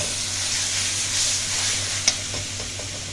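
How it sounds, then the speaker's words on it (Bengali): Spices with red chilli powder frying in a pan for a Bengali duck egg kosha, a steady close sizzle with a few stirring scrapes and one sharp clink partway through. "এবার এইটাকে আমি ভালো করে কষিয়ে নেব।"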